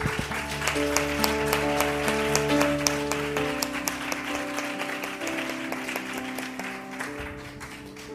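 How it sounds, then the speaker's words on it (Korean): A church congregation applauds in a sustained, full round of clapping over held keyboard chords, while someone speaks briefly over the noise. "우리 하나님께 영광과 박수 올려드립시다"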